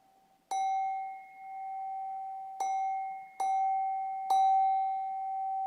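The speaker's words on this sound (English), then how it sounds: "when you hear the bell." A meditation bell at the close of a guided practice rings four times at uneven intervals, each bright, clear strike ringing out and slowly decaying in a quiet room.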